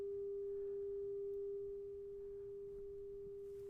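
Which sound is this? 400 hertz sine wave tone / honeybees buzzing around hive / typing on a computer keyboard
400 hertz sine wave tone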